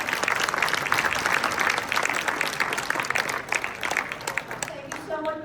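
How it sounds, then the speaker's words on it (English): A congregation audience applauds a professor at the end of a synagogue workshop, a sustained round of clapping from a roomful of people that thins and fades out at the end, where a voice begins to speak. "A show of hands, a round of applause for Professor Graizbord."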